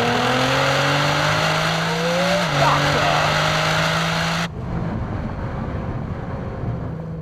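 A 1000 HP street-edition Nissan GT-R pulls flat out from third gear, its engine note climbing steadily and loudly before a gear change, then the roar cuts off sharply into dull road and wind noise.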